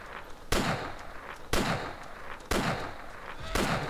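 Gunshots in the survival game DayZ: four loud, sharp blasts about a second apart, each followed by a ringing decaying tail, with no talk over them.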